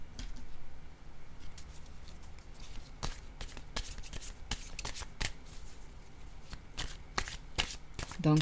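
Oracle cards are shuffled by hand in a steady run of crisp riffling slaps and flutters for several seconds, close but soft, with no talking.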